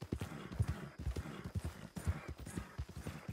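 Horse hooves clip-clop in a steady, brisk rhythm on a trail in Red Dead Redemption, close and clear, with a faint snort or whinny and no talking.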